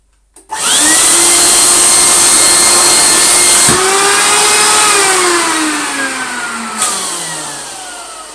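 A loud wet-and-dry vacuum cleaner motor, a Goblin AquaVac 620, whines up and runs steadily, its pitch sliding and dipping, then winding down slowly near the end.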